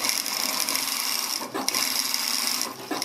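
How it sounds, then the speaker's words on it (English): A sewing machine runs steadily, stitching a seam on dark contrast fabric for a pillow cover, a loud continuous close whir with a brief slowdown midway. "I decided to stitch over on the dark material, on the contrast material that I got."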